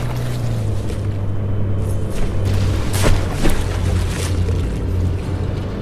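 Battleship gunfire and explosions in the naval combat game From The Depths, heard as a loud, continuous rumbling roar with a few heavier booms about midway through, and no talk over it.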